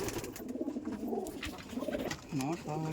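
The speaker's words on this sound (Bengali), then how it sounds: "প্রচুর প্রচুর ছটপটে পায়রা" Pigeons coo in a loft, several soft throaty coos close by, overlapping one another in short bursts amid low background rustling.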